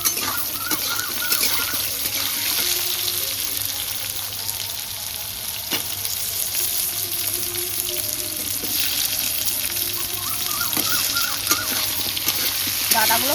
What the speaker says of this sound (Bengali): আলুগুলো দিয়ে নিই, আলুগুলো ভাজতে থাকি।